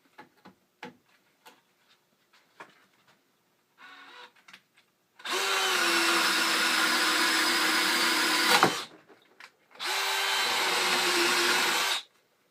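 A DeWalt cordless drill in drill mode bores into pine wood in two sustained bursts, a long whine of about three seconds and then a shorter one, loud and close, with faint clicks before.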